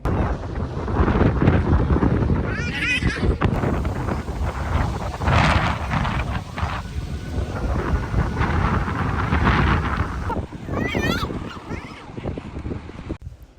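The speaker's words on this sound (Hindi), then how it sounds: "बाहर बारिश हो रही थी" Rain pours outside during a storm, a dense, steady hiss with gusty wind buffeting the microphone throughout, and a few brief bird calls cut through now and then.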